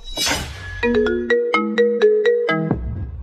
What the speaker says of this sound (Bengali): কোম্পানি থেকে ফোন আসছে।